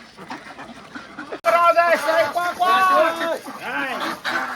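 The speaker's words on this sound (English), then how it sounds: "Oh my god, there are so many ducks." Many ducks quack in a busy, overlapping chorus close by, with people talking and calling out over them.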